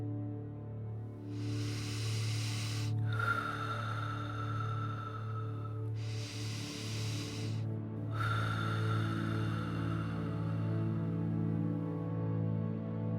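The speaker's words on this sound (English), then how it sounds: "Let's do some continuous breathing so there's no breaks between breaths." Deep, continuous breathing practice: two long, slow breaths, each a soft airy rush lasting a couple of seconds, float over a steady low humming drone with no talking.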